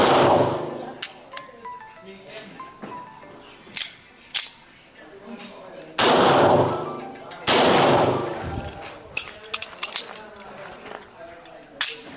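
Taurus 9mm pistols fire sharp, loud single shots at an outdoor shooting range during live-fire drills, spaced irregularly with a few closer pairs, ringing echoes trailing each report and faint talk between.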